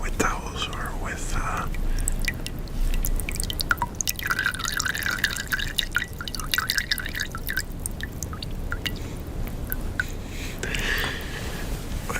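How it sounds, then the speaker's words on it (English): Close, crisp water drips fall irregularly one after another over a soft hiss, with whispering heard alongside throughout. "the sound of water dripping"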